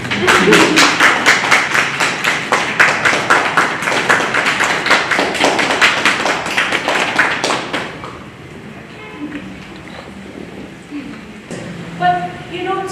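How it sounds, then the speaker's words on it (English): Audience clapping at a book release event, a dense, loud round of many hands close by that fades out after about eight seconds, followed by quieter room sounds and a few scattered taps. "Should we clap?"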